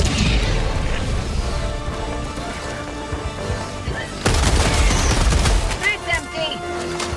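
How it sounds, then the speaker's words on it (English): Orbital strike explosions in Helldivers 2, a sustained rumbling barrage that swells sharply partway through into heavier booms and crashes, with game voices and noise layered underneath. "Firing orbital strike."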